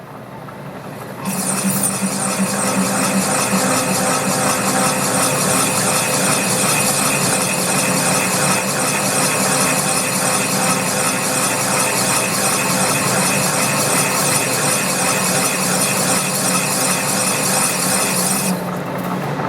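A metal lathe boring at 160 RPM while cutting a thrust washer for a wobble drive, a steady broadband rasping, cutting hiss with a faint hum underneath that starts abruptly and runs loud and unbroken for about seventeen seconds.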